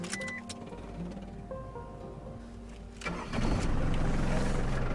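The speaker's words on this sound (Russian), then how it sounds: "Итак, заводим." A 1996 Mazda MPV with a freshly installed antifreeze filter cranks with a whirring starter and then catches, settling into a louder, steady idle at close range.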